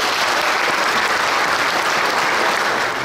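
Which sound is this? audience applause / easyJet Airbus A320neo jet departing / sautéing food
audience applause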